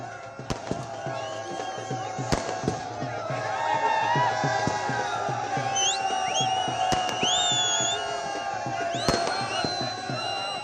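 Fireworks and firecrackers bursting at a street celebration of India's Champions Trophy win in Dehradun, with sharp cracks scattered through continuous crowd noise, cheering and whistling tones.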